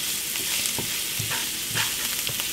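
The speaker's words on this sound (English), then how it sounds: "We'll give that a stir." Two tablespoons of whole wheat flour cook in a pan with a steady close sizzle, while a spoon stirs it with soft scraping and knocking beneath.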